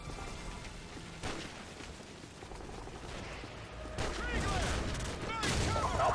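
Gunfire and rocket-propelled grenade fire in the Call of Duty: Modern Warfare campaign, with a dense, continuous battle din of shots and blasts that swells louder toward the end.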